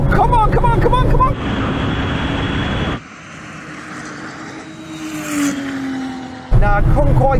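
A Porsche 911 Turbo in a drag race, its engine droning loud and steady before dropping to a lower hum after a gear change, then rising again as an excited voice talks over it.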